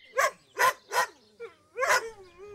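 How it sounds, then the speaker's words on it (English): Cartoon dalmatians bark in a twilight bark: four sharp, loud barks close together, the last trailing into a whine, with a short yip between them. "Pongo and Perdita are going to use their special twilight bark to tell all of the animals to look for Jewel."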